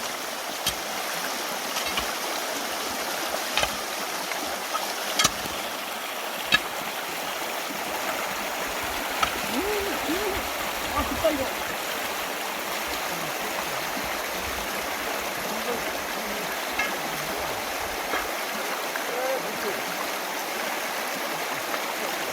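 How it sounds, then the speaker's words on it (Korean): Stream water flowing beside a river lined with reeds on an overcast, snowy day; a steady, close rushing and gurgling wash continues throughout with no speech. "물소리, 시원한 물소리 들려서 너무 좋아요"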